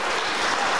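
Applause from a crowd at a family day gathering in a community hall, a brief, steady hiss of many hands clapping, somewhat distant and even.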